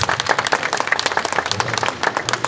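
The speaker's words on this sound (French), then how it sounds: "je note les applaudissements" Steady applause fills a French public meeting hall, dense rapid clapping from a sizable crowd carrying evenly from start to finish at a fairly close distance.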